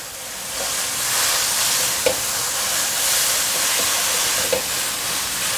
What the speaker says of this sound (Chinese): 快速翻炒。